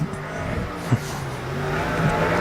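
A USAC/CRA sprint car runs a time trial lap at Arizona Speedway, its engine a steady, distant roar that swells briefly as it passes.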